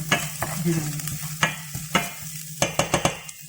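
Garlic and ginger frying in a pan, with a steady sizzle under repeated sharp scraping and stirring strokes from a utensil, close and fairly loud, and no talking.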